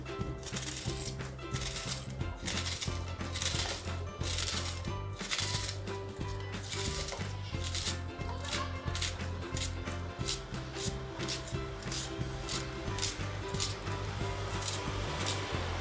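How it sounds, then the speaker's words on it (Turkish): Steady knife chops on a cutting board as small onions are chopped, irregular and fairly quick, heard under continuous background music. "2 adet soğanımızı kıymamıza doğramakla başlayalım"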